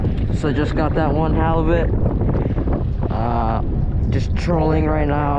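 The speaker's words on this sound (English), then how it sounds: "It's really cold, really windy" Steady wind noise buffets the microphone throughout while someone talks over it in cold weather on a kayak on San Francisco Bay, with a low rumble underneath.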